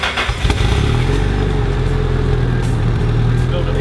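A 325kW Nissan S14 running on E85 idles with a steady, fairly loud low rumble and a faint hum, with a brief throttle blip near the start.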